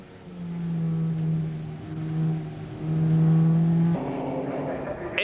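Racing car engine in British Group N saloon racing, holding a steady harmonic drone that swells and dips as it slows into the pits, then a sharp shift near the end; loud and close, no speech.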